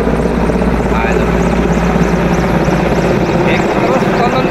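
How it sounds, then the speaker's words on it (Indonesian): A search-and-rescue firefighting helicopter drops water over a burning palm oil plantation. Its rotor and engine drone loudly and steadily throughout, with people talking underneath. "helikopter dari tim SAR pemadam kebakaran"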